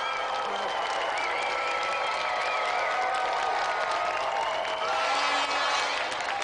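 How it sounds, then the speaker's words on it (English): A TV game show studio audience applauds steadily, a dense wash of clapping that holds for several seconds, with some cheering and voices mixed in. "let's have another round of applause for Simon Hadlington"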